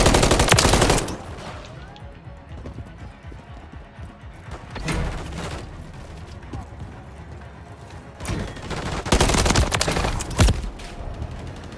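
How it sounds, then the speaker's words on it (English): Rifle fire in Call of Duty MW3 comes in loud, rapid bursts at the start, middle and end, with quieter game noise and faint voices in between. "This is a great rifle."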